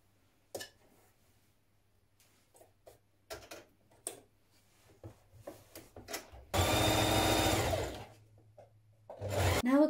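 A sewing machine stitches the shoulder seams of a spring top in one loud, steady burst of about a second and a half. Scattered ticks and handling knocks come before it, and a second short run starts at the end.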